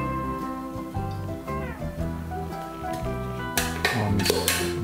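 Potatoes with a drizzle of olive oil stirred in a pressure cooker pan, made as ground-beef stroganoff with potato: a burst of scraping and clattering stirring near the end, over steady background music.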